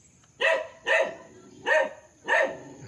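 A dog barks four times at a steady pace, loud and fairly close, with a quiet outdoor background on a farm between the barks.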